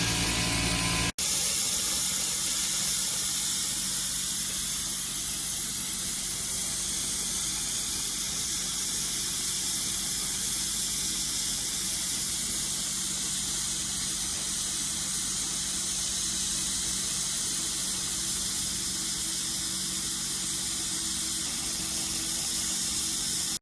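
Steam hisses steadily through a Repiper patch repair, a loud, unbroken, broadband rush lasting the whole stretch after one sharp click at the start.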